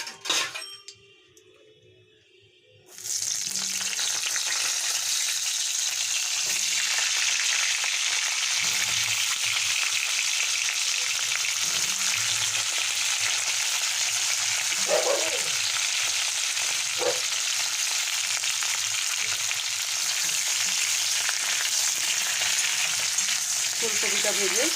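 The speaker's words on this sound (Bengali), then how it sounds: "এবারে আমি ফুলকপিটা ভেজে নেব।" Cauliflower frying in oil in a pan for Bengali khichuri made with Gobindobhog rice, a steady loud sizzle that starts after a short quiet moment, with occasional light clinks of utensils.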